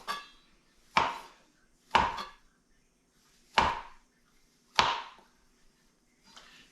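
A kitchen knife slices through mushrooms for a homemade pizza in five crisp, separate cuts roughly a second apart, each a sharp board-striking chop close by, with a softer sixth stroke at the end.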